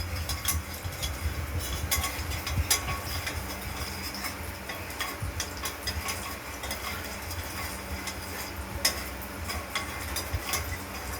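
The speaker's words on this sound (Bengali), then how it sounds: "সর্ষেটা দিয়ে দিয়েছি তেলে" Mustard seeds crackle and splutter in hot oil in a kadai, a steady busy sizzle with scattered sharp pops throughout, close and continuous with no talk.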